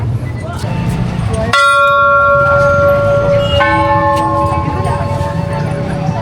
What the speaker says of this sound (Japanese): この鐘を鳴らしていかれてますね